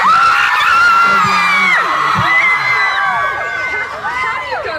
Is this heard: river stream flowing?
no